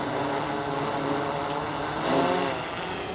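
A DJI Mavic 4 Pro drone lifts off, its propellers giving a steady, close, loud buzzing whine that swells slightly as it climbs, with no talking.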